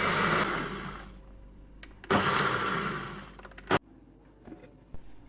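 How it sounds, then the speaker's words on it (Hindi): A kitchen blender whirs through coriander and mint chutney with salt, black pepper and crushed red chilli, running in loud close bursts of about a second with short pauses and small knocks between them. "साफ करके इसे ब्लेंडर में डाल दिया है और इसमें नमक, काली मिर्च और कुटी लाल मिर्च शामिल कर दी।"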